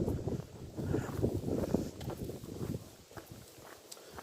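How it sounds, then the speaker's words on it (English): Gusty wind buffeting a microphone outdoors by a farmyard, low rumbling bursts that swell and fade, with a few faint footstep-like thuds and no talk. "It's pretty breezy here today now, so I'm hoping this microphone is okay."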